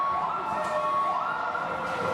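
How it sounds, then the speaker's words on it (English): Wailing emergency sirens sound steadily and fairly loud inside a noisy ice rink during an under-11 youth hockey game, with no talking over them. "Somebody called the po-po. That's the sirens up there."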